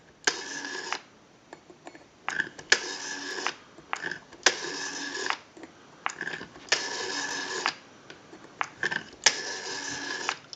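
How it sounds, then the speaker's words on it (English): Rotary dial on a 202 telephone being turned and spinning back repeatedly, each return a smooth buzzing whir lasting about a second, alternating with short clicks and pauses, close and clear with no talk. "We have a nice smooth return on our rotary dial now."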